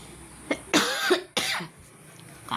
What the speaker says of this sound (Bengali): কাশি হয়েছে বোধহয়।